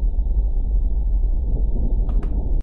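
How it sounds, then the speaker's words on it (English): Wind on Mars, blowing at roughly 10 to 15 miles per hour, comes through as a steady low rumbling roar with a muffled, band-limited character. It holds throughout and ends abruptly. "This is the sound of wind on Mars."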